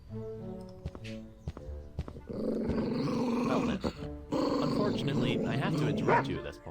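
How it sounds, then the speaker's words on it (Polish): A dog barks and growls in the video game Scott Whiskers, with gruff, throaty snarls and barks in short bursts over game music, and a person speaking across it. "Uroczy piesek."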